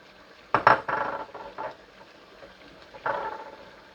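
Chopped onions go into a frying pan for a lamb curry, with a sharp clatter of metal and utensils followed by a softer scraping and stirring, close and brief.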